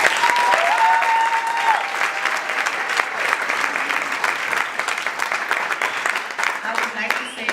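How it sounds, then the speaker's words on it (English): Sustained audience applause fills a graduation ceremony for AIMS South Africa's 2018 scholarship awards, a dense steady wash of many hands clapping with some faint voices mixed in, continuous and fairly loud throughout. "I think they deserve another round of applause"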